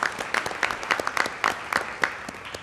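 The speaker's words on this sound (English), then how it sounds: "give these folks a round of applause" Audience applauding at an annual neighborhood partnership meeting dinner, with sparse, distinct claps from a modest crowd, close and lively but thin rather than a roaring ovation.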